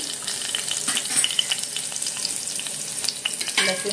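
Garlic fries in a pan for a Maharashtrian Modak fish curry, sizzling steadily with scraping stirs across the pan and a louder burst of crackle near the end.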